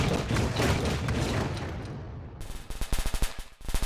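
Firework rockets in the video game Garry's Mod go off as a dense wash of crackling bursts, then a rapid run of sharp popping explosions, loud and close, with no voices.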